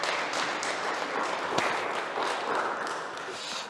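A congregation in a Korean church claps to welcome a newly arrived family, with steady, moderately loud applause that continues through the clip.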